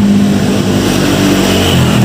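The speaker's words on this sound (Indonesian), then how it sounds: "Itu motor bore up." Bore-up motorcycle engine running loud and close, a continuous throaty drone with a strong steady hum, held revs and slight pitch shifts near the end, no talking over it.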